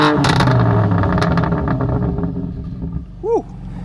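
A BMW M3 30 Jahre Edition with M Sport exhaust revving loudly and close, a deep roaring blast that gradually eases off, with a brief rising whoop near the end.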